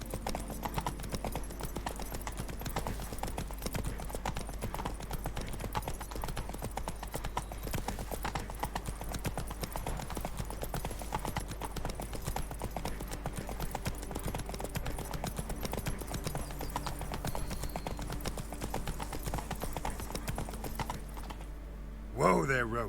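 Roach, the horse in The Witcher 3 video game, trots with steady rhythmic hoof clip-clops over a low constant rumble for a long stretch, ending with a short whinny-like sound; voices speak over it at times.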